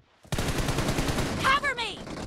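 Automatic gunfire in the mobile battle royale game PUBG Mobile, a dense continuous burst of rapid shots lasting about two seconds, loud and close, with a short electronic game effect near the end.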